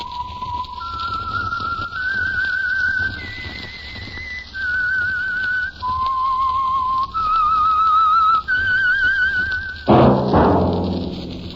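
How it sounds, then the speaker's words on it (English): A clear, loud whistled melody of sustained notes stepping up and down in pitch, the signal tune of a radio drama show, ending with a low thud and a few fading tones. "That whistle is your signal for the Signal Oil program, The Whistler."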